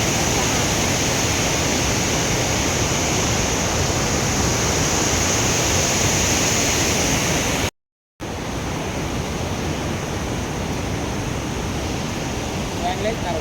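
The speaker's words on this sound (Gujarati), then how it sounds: "થોડાક પાણી પડતું હોય" Water pouring down at a waterfall near a temple, a loud, steady rushing roar that continues almost unbroken, with one brief cut partway through.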